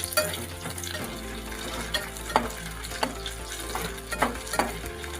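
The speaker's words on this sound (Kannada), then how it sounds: "ನೀಟಾಗಿ ಎಲ್ಲದನ್ನು ಫ್ರೈ ಮಾಡೋಣ" Ginger, garlic, onion and spices frying in hot oil for a country chicken curry, a bright crackling sizzle punctuated by repeated scraping clacks of a spoon stirring the pan, close and continuous.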